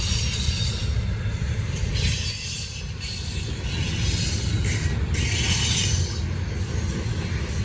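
Freight train with BNSF and Canadian National locomotives rolling past, heard as a loud, steady rumble of railcars with wheel squeal and hiss throughout, no voices.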